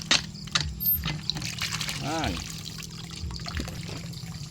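Water from a spring trickles and splashes steadily in the background while a person talks over it in short phrases.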